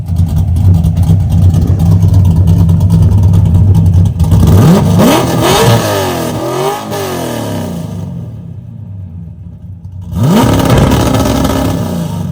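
A 1968 Ford Torino GT running with mufflers off the headers idles with a loud, lumpy rumble, then revs in several sharp climbs, drops back, and revs hard again, close up and uncovered by talk.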